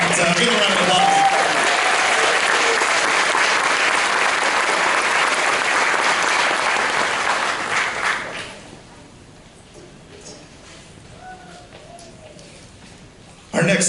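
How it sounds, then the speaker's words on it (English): An audience at a high school jazz ensemble concert applauds the soloists with sustained clapping for about eight seconds, then the applause fades away into a quiet room. "Give a round of applause."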